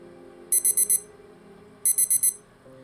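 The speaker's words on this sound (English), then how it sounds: "my alarm begins buzzing" Two bursts of an alarm clock buzzing, each four quick sharp beeps in a row, loud and close, separated by a pause over a faint low hum.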